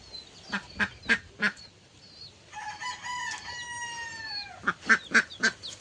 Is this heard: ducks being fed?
yes